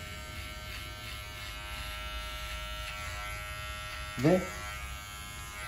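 An electric hair clipper buzzes steadily while cutting hair at the nape of the neck in a barbershop layered haircut, a constant close hum under someone talking, with a brief louder burst near the end.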